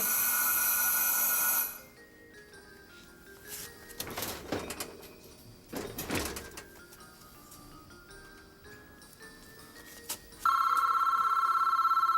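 A telephone rings loudly, then falls quiet while faint handling and rustling noises follow, and a bright ring returns near the end.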